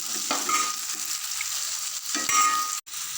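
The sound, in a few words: onions sautéing in a frying pan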